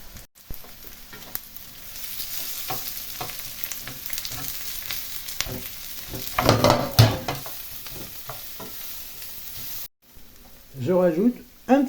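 Thinly sliced onions fry in melted butter in a pan, giving a steady close sizzle with stirring scrapes, a louder burst near the middle and a short break before the sizzling resumes.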